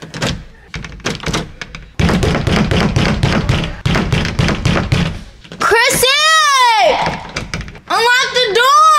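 Heavy thuds of someone banging on a locked door, a rapid run of loud knocks and thumps up close, with excited voices and shouting over and between the blows.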